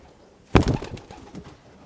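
Breeding pigeons give a single short coo, close and moderately loud, against a quiet background.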